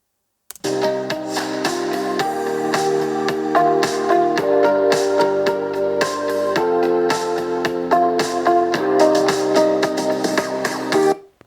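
Louder music playback from Razer Blade 18 laptop speakers at 80% volume, a full melodic track with steady beats running throughout, clear and close, no voices.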